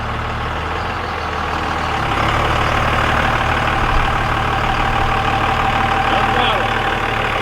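A truck engine idles steadily and close, then grows slightly louder as the vehicle creeps under its own power with no throttle after a fresh transmission rebuild; a constant low rumbling drone.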